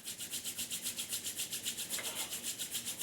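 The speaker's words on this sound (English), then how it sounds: "Rub your palms vigorously." Palms rubbed together vigorously to build heat, a steady rhythmic swishing friction repeating about seven times a second, close and fairly quiet with no talk.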